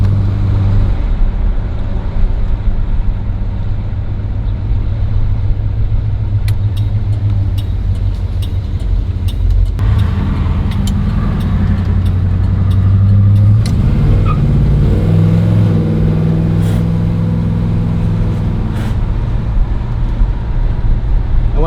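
A 1970 Plymouth Duster V8 accelerates hard with a loud, sustained engine roar that swells partway through, heard up close and without talk.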